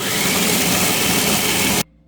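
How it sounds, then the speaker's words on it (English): Food processor grinding 2 cups of sprouted rolled oats into rough flour, a loud steady whirring roar that runs continuously and then cuts off abruptly near the end. "we are going to process up our oats into like a rough oat flour"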